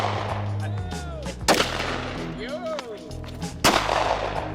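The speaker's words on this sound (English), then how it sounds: "letting me shoot his Glock" A Glock pistol is fired outdoors on a shooting range, two sharp, loud reports a couple of seconds apart, with people talking nearby between the shots.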